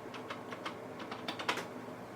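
The buttons of a BBTK 1-8 button USB response pad are pressed in a quick series of about ten light plastic clicks, close and fairly quiet, with no talking.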